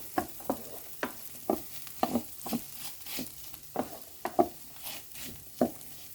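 Spatula stirring garlic and fried rice ingredients in a hot pan, a series of irregular scraping strokes over a soft background sizzle, close and fairly quiet.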